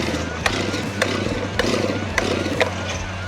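A chainsaw with a gunked-up carburetor runs rough, its engine chugging unevenly with sharp sputtering pops at irregular intervals, up close and fairly loud.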